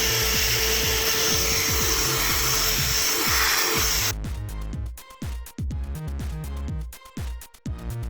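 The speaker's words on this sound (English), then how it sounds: "go over with it a couple of times with a drill" A drill spinning a polishing pad on a car headlight gives a steady whirring buzz for several seconds, then turns into choppy, uneven rubbing and scraping with short gaps.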